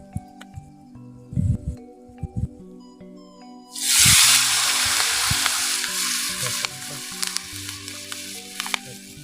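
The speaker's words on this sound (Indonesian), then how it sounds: "Lanjut kita goreng lagi." Crispy banana-leaf martabak dropped into hot oil and frying, bursting into a loud, steady, close sizzle after a few scattered clicks and taps beforehand.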